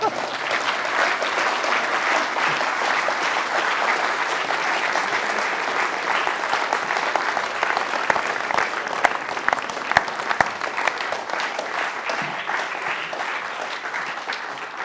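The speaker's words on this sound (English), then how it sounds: "vous pouvez applaudir" Dense, sustained applause fills a hall at a ceremony honoring physicist Alain Aspect, a steady wash of many hands clapping at even loudness for about fifteen seconds.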